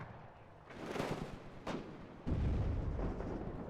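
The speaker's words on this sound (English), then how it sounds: "You see his artillery actually firing." In the real-time strategy game WARNO, artillery fires in a few muffled, distant booms and rumbling blasts, with one heavier impact near the end.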